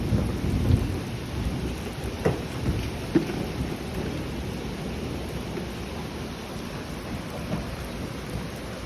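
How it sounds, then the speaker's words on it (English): Heavy rain pours steadily and loud, with a few sharp thunder cracks rising out of the dense hiss early on. "It's raining on you."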